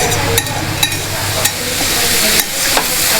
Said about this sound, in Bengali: যে গাজরটাকে আমি দিয়েছি এটাকে এখন একটু ভালো করে নেড়ে নিতে হবে।